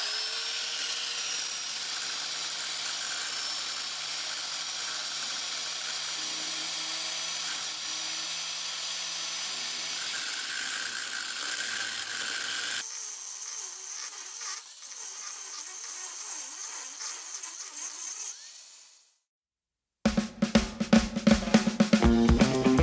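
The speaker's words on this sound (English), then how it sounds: "Now we just got a little more to grind to get the bolt out." A power grinder whines steadily as it cuts a bolt off a plate under a vehicle during an air spring install, its pitch shifting partway through before a brief silence and a burst of sharp clattering.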